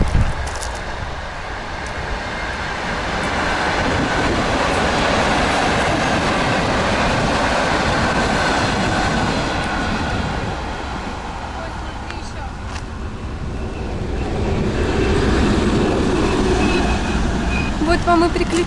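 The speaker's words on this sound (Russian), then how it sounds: "Поезд, снимай поезд." A train rumbles past at close range in rural Russia with steady rolling wheel noise and clatter, while people talk over it.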